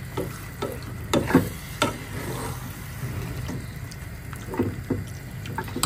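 Mutton pieces being stirred and sautéed in a pan for tehari, with a spoon scraping through the meat in irregular bursts over a low steady sizzle, close and moderately loud.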